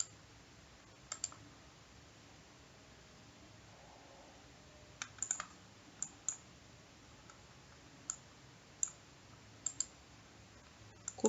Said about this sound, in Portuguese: Vou clicar no botão direito.